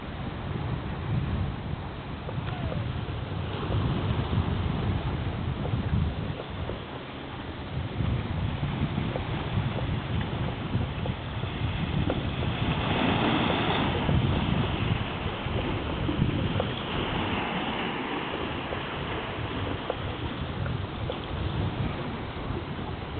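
Waves on the Mediterranean Sea shore wash in steadily, with a continuous rushing surf and heavy wind buffeting across the whole stretch.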